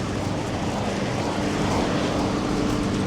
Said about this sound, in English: Guys mowing the lawn in the rain?